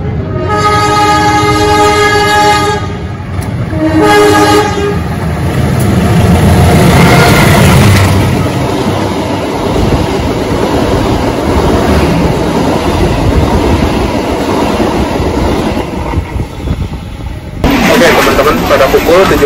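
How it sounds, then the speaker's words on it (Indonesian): A passenger train passes close by at Gede Bage station near Bandung, its loud rumble and rolling wheels sustained throughout, with a long blaring horn at the start and a shorter horn blast near the end, voices faintly underneath. "di Gede Bage ini tunggu bersilang dengan kereta api Kuto Jaya Selatan dari stasiun Kutoarjo menuju stasiun Kiara Condong"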